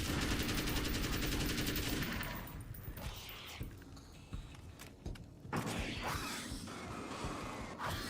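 Rapid gunfire from the Alan Wake's American Nightmare video game, loud dense bursts at the start that drop away, then return as sustained automatic fire near the end.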